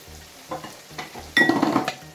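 Frying bean porridge in a pot gives soft sizzling, punctuated by several stirring scrapes and a louder burst of sizzle and clatter partway through. Everything is close and moderately quiet.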